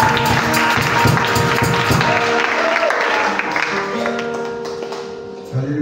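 Church congregation applauding during a service, dense continuous clapping from many hands at close range, gradually thinning toward the end, with voices mixed in.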